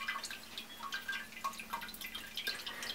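Water falls into a handmade cordless ceramic cat drinking fountain with an internal battery, making faint, steady trickling and dripping splashes over a low hum, with no voices.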